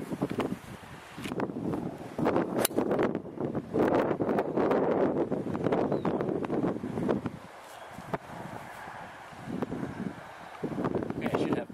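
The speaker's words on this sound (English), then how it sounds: "the wind is left to right pretty strong" Strong left-to-right wind gusting across a golf course at Cuisinart Resort in Anguilla, a steady loud roar buffeting the microphone with rustling bursts throughout, easing briefly near the end before rising again.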